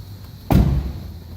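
A car door swings open at close range, a single sudden thump-like onset followed by a brief rustling decay, with no one talking.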